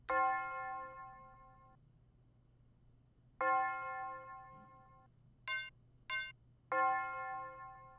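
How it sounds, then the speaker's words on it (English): Resonant tubular bell strikes ring out one at a time with long sustained tones, a few spaced hits and two brief higher chimes, clear and alone. "the last melody sound we have, guys, is the tubular bell, and it's gonna sound like this"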